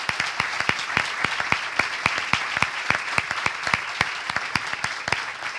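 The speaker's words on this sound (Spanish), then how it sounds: "Le ofrecemos un aplauso por sus palabras" An audience claps after a speech at a Spanish business conference, individual claps sharp and distinct at a brisk irregular rhythm, a modest room of hands rather than a roaring crowd.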